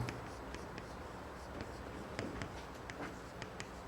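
Soft scratching strokes of writing on a board during a Korean civil-engineering soil-testing lecture, faint and close, with short taps and scrapes in an irregular rhythm and no voice.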